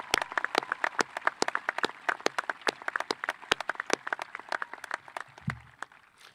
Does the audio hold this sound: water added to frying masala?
no